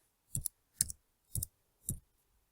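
Four separate keystrokes on a computer keyboard while HTML code is typed, each a sharp close click with a low thump, evenly spaced about half a second apart and followed by quiet.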